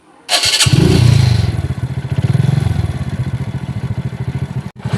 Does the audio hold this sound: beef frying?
no